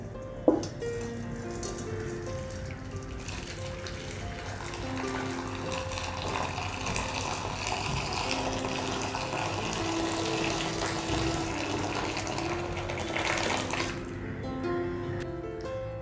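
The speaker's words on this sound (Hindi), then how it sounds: "हम दूध को थोड़ी ऊंचाई से डालेंगे ताकि हम इसमें थोड़ी झाग बना सकें।" Milk poured from a height into a container for setting curd, a steady liquid splashing and gurgling stream running continuously for about fourteen seconds, fairly close and even, with no talk over it.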